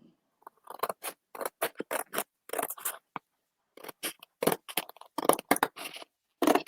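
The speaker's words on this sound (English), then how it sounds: "So I am just cutting this out." Scissors cutting out a photo for a gift: a quick series of sharp, close snips in irregular bursts, with short pauses between runs of cuts and no voices.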